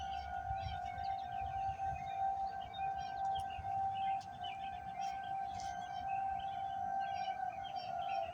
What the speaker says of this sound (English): They tested on the first Friday of the month for tornado sirens.